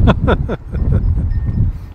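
Strong wind buffets the microphone beside a narrowboat in a steady low roar, with a few short voice-like bursts near the start.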